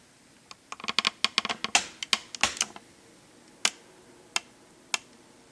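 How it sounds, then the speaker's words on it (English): Sharp plastic clicks and taps come in a quick cluster, then a few isolated clicks follow, close by against a quiet background. "we have the sound effects of the camera and the tripod."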